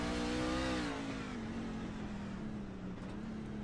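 A race truck engine on a Chicago street course holds a steady, loud idle-to-rev drone, with a brief higher rev near the start that eases back down to a lower, constant rumble.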